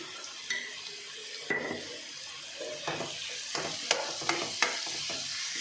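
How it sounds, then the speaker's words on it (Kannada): Mushrooms fry in a home kitchen pan, a soft sizzle broken by scraping stirs and sharp clinks of a utensil against the pan, close and fairly quiet with no talking. "ಈಗ ಇದೆಲ್ಲ ಚೆನ್ನಾಗಿ ಸ್ವಲ್ಪ ಮಶ್ರೂಮ್ ಫ್ರೈ ಮಾಡ್ಕೊಳ್ಳೋಣ"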